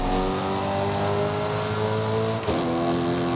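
Ferrari engine revving hard in the racing game Forza Horizon 5, a loud sustained mechanical roar with steady harmonic tones and a brief dip and shift in pitch near the end, no voices over it.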